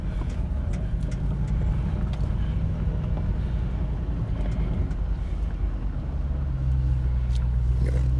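A Range Rover engine holds second gear through mud ruts, a steady low drone with wind buffeting the microphone, rising in pitch and loudness near the end as the revs climb.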